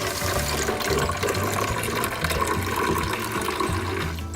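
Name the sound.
vinegar filling a Keurig coffee maker water reservoir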